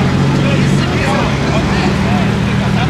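A Honda NSX sports car drives away from a Cars & Coffee gathering, its engine a loud, steady low drone with a rising and falling tone, heard close and continuous.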